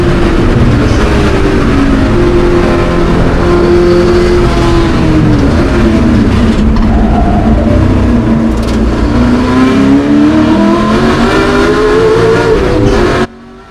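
Onboard a Ford GT40 historic race car at a classic Le Mans race, the loud engine drones close-up with rising and falling pitch through shifts and throttle changes, cutting off abruptly at the end.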